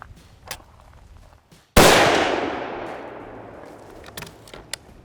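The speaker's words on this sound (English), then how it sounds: "So we're gonna take a shot with and without the suppressor and record the difference in the audio" A single loud, sharp unsuppressed rifle shot from a T/C Encore cracks out close by, followed by a long, slowly fading rumble of echo, with a few faint clicks before and after.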